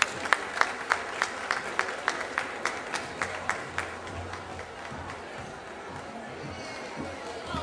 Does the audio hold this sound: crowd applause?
yes